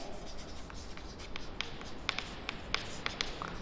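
Chalk or marker scratching across a classroom board as a matrix is written out, a steady run of close strokes and small taps with no talking.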